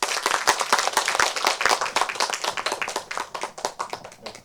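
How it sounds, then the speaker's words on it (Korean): Parents at a school education session clap to welcome a lecturer, a lively burst of many hands that stays fairly loud and then gradually thins and softens. "큰 박수로 환영해 주세요."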